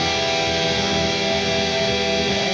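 Four harmonized distorted electric guitar notes from a riff ring together as a sustained chord, steady and loud with a slight shift near the end, alone without voices.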